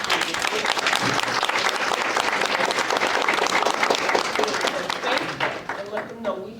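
A large audience bursts into sustained applause at a women's awards event, loud dense clapping that fills the room before thinning out and giving way to a voice at the end.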